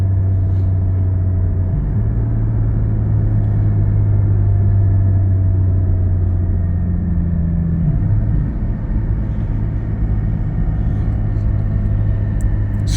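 A car with a Soul Performance V2 exhaust cruises in sport mode, giving off a loud, steady low drone and rumble from inside the cabin. The booming hum shifts pitch slightly as speed changes, with no talking.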